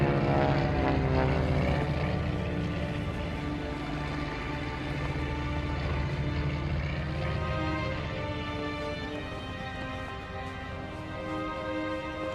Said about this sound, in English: a plane flew over us